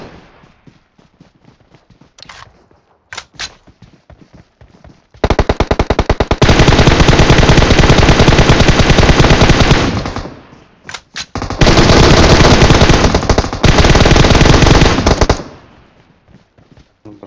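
Loud automatic gunfire in the mobile battle-royale game PUBG Mobile on the Livik map, in two long sustained bursts of rapid shots, preceded by scattered single shots and game sounds.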